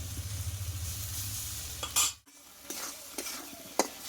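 Dal with spices sautéing in a pan, a soft sizzle under brisk stirring with spoon scrapes, a sudden pause midway, then lighter scraping and taps against the pan.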